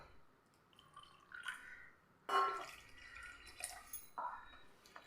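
Water poured into wheat dosa batter in a home kitchen, faint and close, with soft trickles and a few brighter splashes and drips.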